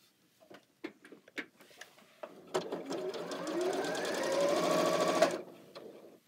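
A sewing machine runs steadily for a few seconds while stitching quilt block rows for a cake stand sampler block, preceded by a few light ticks and handling taps, then stops.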